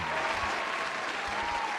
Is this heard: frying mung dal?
no